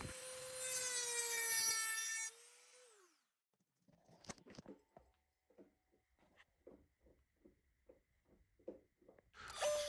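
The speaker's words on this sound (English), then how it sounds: "Here I'm just going to take a Dremel and just cut a little choil into it." A Dremel rotary tool cuts a sharpening choil into an O1 tool steel knife blade. Its loud high-pitched whine runs for about two seconds, then spins down, followed after a pause by a series of short, rhythmic grinding and scraping strokes.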